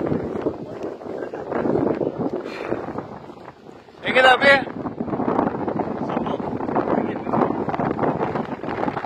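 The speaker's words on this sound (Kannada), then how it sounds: "ಗಾಳಿ ಮೊಬೈಲ್ ಕೈಯಿಂದ ಆಫ್ ಮಾಡೋಗುತ್ತೆ, ಅಷ್ಟು ಫೋರ್ಸಲ್ಲಿ ಬಿಟ್ಟಿದೆ" Strong wind on the Kundadri hilltop in Shimoga buffets the microphone in a continuous rough roar, with people talking over it and a brief louder gust midway.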